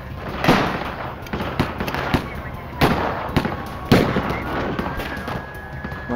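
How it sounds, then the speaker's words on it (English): Gunfire in a police and FBI shootout with a fugitive cop killer, officers flanking and firing from the opposite side: a rapid irregular string of sharp cracks and pops, some louder than others, over several seconds with no voices. "began firing on the shooter from the opposite side"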